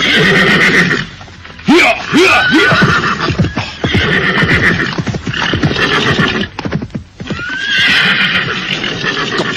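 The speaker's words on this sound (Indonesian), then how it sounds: "Kuda Narasingha menuju kemari" A horse neighs and whinnies repeatedly in a dramatic fight scene of an Indonesian audio drama, with clip-clopping hooves. The shrill, rising and falling cries are loud and close, set over a busy background.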